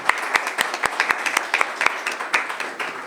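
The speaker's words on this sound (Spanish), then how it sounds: "Un aplauso para la doctora Bárbara" An audience at the closing of a parliamentary research congress applauds Dr. Bárbara with a fairly loud, steady round of claps, individual sharp hand claps standing out through the wash.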